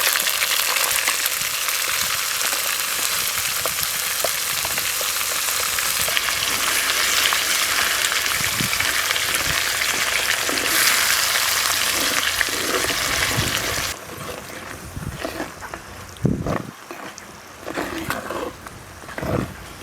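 Curry leaves, green chilli and onion paste frying in a pan, a loud, dense, close sizzle that keeps up for several seconds and then drops to quieter, uneven crackling with scraping stirs.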